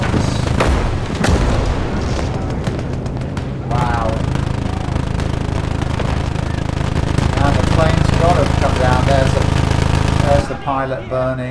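Bombing explosions in the Gates of Hell war game, Liberation conquest mode in hedgerow country: heavy booms and rumbling blasts with sharp cracks of gunfire, loud and continuous for most of the stretch, with players talking over the din.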